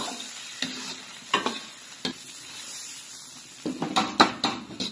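Eggplant being stir-fried in a wok with a starch slurry, a soft sizzle broken by sharp spatula scrapes and clacks, busier toward the end, no voices.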